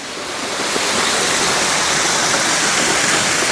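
Waterfall near Silver Sands Beach in Aberdour, Scotland, roaring as a steady, dense rush of falling water, loud and close throughout with no voices.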